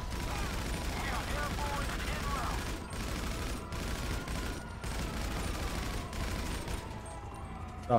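Rapid gunfire crackles and thuds in a Grand Theft Auto shootout with an RPG rocket launcher, dense bursts of shots over a busy game soundscape, while a player talks intermittently.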